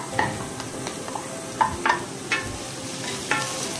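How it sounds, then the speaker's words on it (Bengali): Vegetables stirred in a pan with fried onion, ginger and garlic: a steady close sizzle with several quick scraping, clinking strokes of the spatula, no voices. "ভেজিটেবল অ্যাড করে দিয়ে আমরা একটু নাড়াচাড়া করে নিব।"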